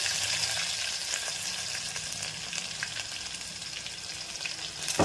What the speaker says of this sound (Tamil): வெங்காயத்தை இப்படி வதக்கிடுவோம்